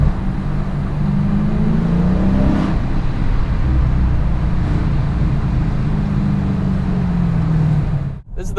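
A 2019 Dodge Challenger R/T Scat Pack V8 exhaust droning loudly inside a tunnel, a steady deep rumble that swells and eases through two throttle changes before cutting off abruptly at the end.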